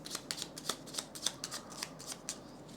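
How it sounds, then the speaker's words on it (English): A deck of cards for the board game Paladins of the West Kingdom is shuffled by hand, giving a quick series of crisp riffling and snapping bursts, close and fairly loud, with no voices. "We're going to shuffle it now."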